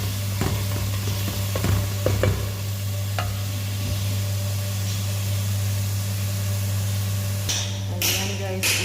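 Onions fry in a pan with a steady loud sizzle throughout. Stirring thumps and scrapes break in now and then, a mains-like hum sits underneath, and a voice is faintly present.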